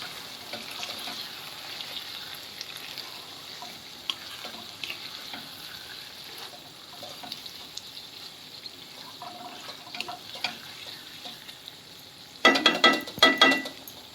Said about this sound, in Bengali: দশ মিনিট পর ঢাকনাটা খুলে একটু নাড়াচাড়া দিয়ে নিতে হবে